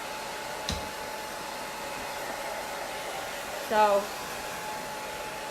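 A hair dryer blows steadily and evenly at moderate level while round wooden craft balls are dried for painting, with a brief spoken word near the end.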